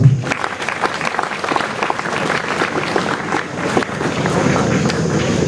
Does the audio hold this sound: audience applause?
yes